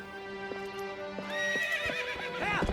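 A horse in Zelda: Twilight Princess HD gives a loud, close whinny with rising and falling pitch, while hooves clop in a few steady beats underneath.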